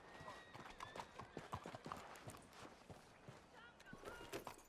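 A horse's hooves clip-clop in the western role-play game WildRP, an irregular run of distinct hoof strikes at moderate distance, fairly quiet, with other game ambience around them.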